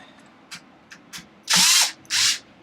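A power tool drives the sway bar screws down on a Traxxas XO-1 RC car, starting with a few faint ratchety clicks, then two loud, close whirring bursts, each under a second long, with no talking.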